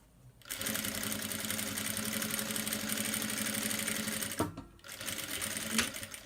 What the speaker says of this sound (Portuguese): eu inicio a minha costura